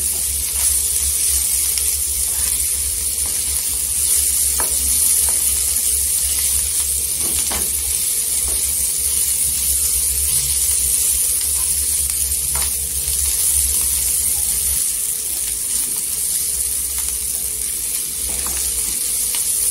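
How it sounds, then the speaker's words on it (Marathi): Ghevda bean pods with spices and crushed peanut sauté in hot oil, a loud continuous sizzle with occasional soft scrapes and stirring taps throughout, and no talk. "आणि भाजी एक जीव करून घ्यायचा आणि तेलावर 1-2 मिनिटं आहे ना परतून घ्यायची"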